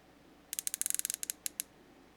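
A Wera quarter-inch Cyclop ratchet fitted with a Wera socket gives a quick run of about fifteen crisp clicks as it is rotated, close up and quiet with no speech.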